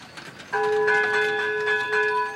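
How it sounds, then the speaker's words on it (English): Temple bells in Kathmandu ring out in a sustained, resonant metallic tone that starts abruptly and hangs steadily, loud and close, with faint lighter strikes layered on top. "The bells at the temple in Kathmandu will continue to make sound to wake up people's body and soul."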